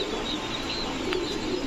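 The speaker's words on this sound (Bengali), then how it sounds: "একটা মাদি কবুতর দেখেন, জাম্বু সাইজের স্টেন্সিল লাহোরি একটা মাদি।" A large jumbo-size female Lahori pigeon coos softly at close range, low murmuring calls over quiet background hiss.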